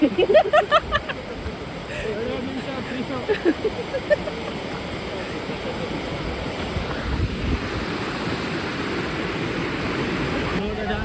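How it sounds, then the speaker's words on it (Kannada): Steady rushing water of Hebbe Falls in Karnataka roars continuously throughout, with a few brief voices near the start and wind buffeting the microphone. "ಮೇಲಿಂದ ನೀರು ಬೀಳ್ತಾ ಇದೆ"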